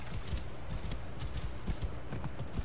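Horse hooves clip-clop in a steady, fast galloping rhythm as a mount climbs a mountain in the video game Assassin's Creed Origins, loud, close and continuous with no talking.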